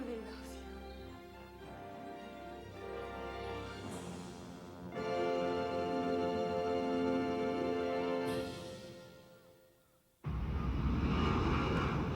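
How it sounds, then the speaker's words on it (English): Steady airplane cabin engine drone, a constant broadband rumble with layered tones that swells, fades briefly, then returns louder, heard inside the cabin. "I'm on an airplane."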